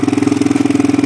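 A Honda TRX400EX ATV engine idles close by, a loud, steady, rhythmic thumping putter, its exhaust burning off oil.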